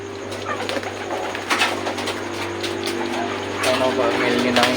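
Domestic racing pigeons cooing at a rooftop loft, soft repeated coos rising over a steady low hum with faint rustling throughout, fairly close; someone talks nearby.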